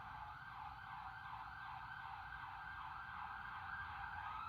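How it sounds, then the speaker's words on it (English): An emergency vehicle siren wails steadily outside, distant and continuous, over a low rumble of traffic, with no speech. "Sorry about the siren in the background."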